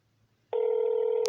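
Telephone ringback tone on an outgoing call to a county sheriff's office, a steady electronic tone starting abruptly after a moment of near silence and holding clearly and alone.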